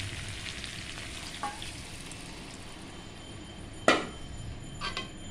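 Mixed vegetables fry in a pan under a steady close sizzle, with a few sharp scraping stirs of a utensil, the loudest near the end.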